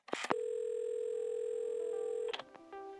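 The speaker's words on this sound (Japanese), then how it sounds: "電話をかける。" In the video game Assemble with Care, a telephone dial tone sounds as a steady, loud electronic hum held for about two seconds, framed by handset clicks and clatter.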